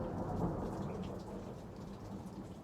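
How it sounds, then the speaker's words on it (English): A thunderstorm with steady rain and low rolling thunder, constant and moderately quiet, with no talk. "Glad the thunder is interjecting me here every now and again."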